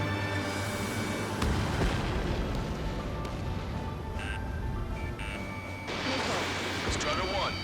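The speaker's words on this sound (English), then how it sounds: "Strider 1, missile launched." A missile launches in the video game Ace Combat 7, a loud whooshing rumble amid heavy combat engine noise, with radio-style voices talking over the sustained roar.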